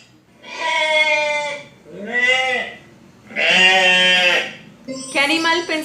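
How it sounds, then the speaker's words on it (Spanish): A sheep bleats four times in a row, loud and close, each call a long wavering cry separated by short pauses. "Eso, la oveja, muy bien."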